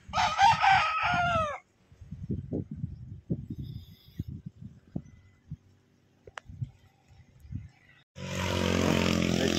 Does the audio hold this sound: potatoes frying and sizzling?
no